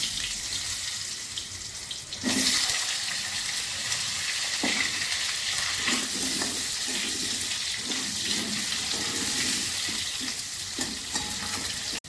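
Potatoes dropped into hot oil in a home kitchen after cauliflower frying, a loud sizzle bursting in around two seconds and holding steady, with scattered stirring clinks and spatter pops throughout.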